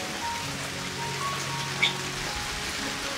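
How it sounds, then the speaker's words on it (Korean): Steady rain falls outdoors on potted plants such as hoya and cacti set out to catch it, giving a soft, even patter with an occasional closer drip. "어제부터 해서 오늘 내일까지 비가 계속 오고 있어요."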